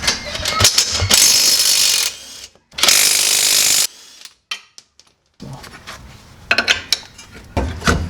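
Ratchet wrench clicking as it works a camber bolt on a car, bursts of dense metallic ratcheting broken by short pauses and quieter handling clatter, close by with no talk.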